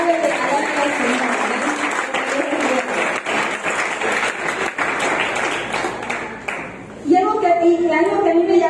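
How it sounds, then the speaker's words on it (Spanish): Congregation at a church service bursts into sustained, dense applause with cheering voices mixed in, holding steady for several seconds before fading, then a voice speaks in Spanish over the tail end. "Denle un aplauso al Señor."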